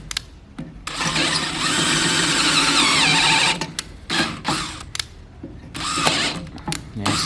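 A 1/4 inch power drill with a worn, slipping chuck whines at high speed in a sustained three-second burst, then stutters through short stop-start pulses with brief pauses between.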